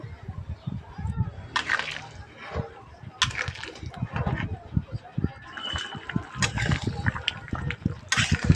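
Fish curry made with bata fish, potato and pointed gourd comes to a boil in a pan, with bubbling and sloshing heard beneath a person speaking close by.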